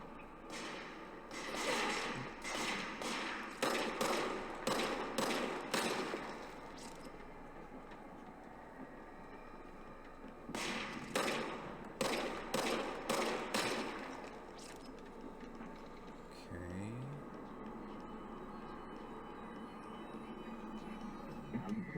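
Enemies in the video game Control fire at the player in two rapid bursts of sharp, loud gunshots, a short pause between them, followed by scattered thuds and lower rumbling.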